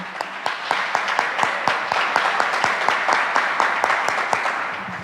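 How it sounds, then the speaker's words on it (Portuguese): A church congregation applauds together in sustained, steady clapping that fills the room evenly for the whole stretch, with sharp individual claps standing out over the dense crowd sound. "Vamos dar uma salva de palmas para o Senhor Jesus?"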